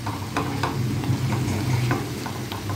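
Bitter gourd cooks in a pan with a constant close sizzle and bubbling, marked by a few soft stirring taps, and no voices.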